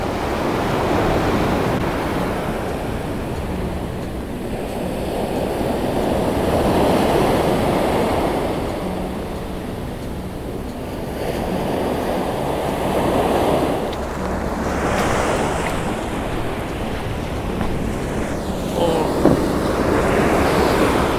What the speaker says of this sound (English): I'm just taking a few shots now as the waves are breaking up on this beach